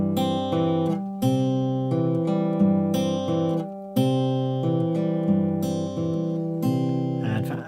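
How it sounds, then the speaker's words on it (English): Acoustic guitar fingerpicking pattern alternating thumb bass notes with finger-picked upper strings, clear, close and alone, in a steady repeating rhythm of ringing chords. "for the rest of the pattern you've got alternating thumb and fingers"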